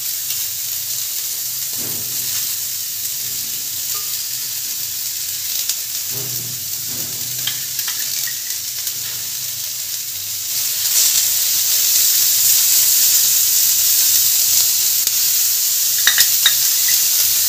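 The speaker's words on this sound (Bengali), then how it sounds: "পেঁয়াজগুলো একটু সতে করে নেবো হালকা করে, বাটার দিয়ে করবো" Onions sauté in butter with a steady sizzling hiss that grows louder and brighter partway through, broken by a few soft stirring scrapes and light clicks, with no voices.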